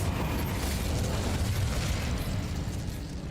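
Incendio fire spell cast in Hogwarts Legacy, a continuous roaring, crackling burst of flame with a rumbling low end, steady and fairly loud for a few seconds with no talk.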